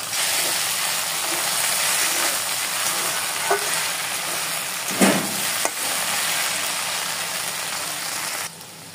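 Fish and ridge gourd curry bubbles and sizzles steadily in a pan while a spatula stirs it, with a few louder scraping knocks midway, close and continuous, no talking.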